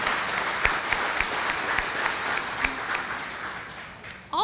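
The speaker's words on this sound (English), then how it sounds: "Could we give them a round of applause?" An awards-event audience gives a round of applause to employer partners: sustained, even clapping from a sizable crowd with a few sharper individual claps standing out, ending with a brief voice or sound near the close.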